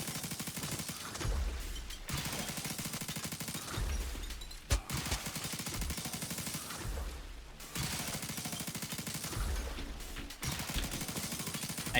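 Rapid gunfire from the Sodaman video game crackles in dense, continuous bursts broken by a few short pauses. It is loud and close throughout with no talking.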